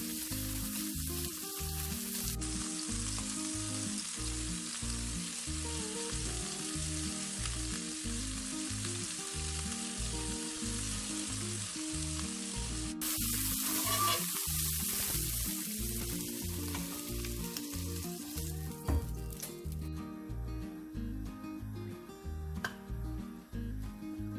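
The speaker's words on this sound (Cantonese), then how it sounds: "呢個蝦咧唔使煎太耐，每邊大約煎佢30秒得㗎啦。" Continuous hissing sizzle of shrimp frying in a pan, loud and even, with music playing underneath.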